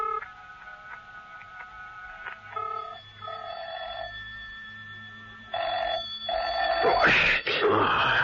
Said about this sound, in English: Mrs. Peel listened intently to the phone ringing at the other end.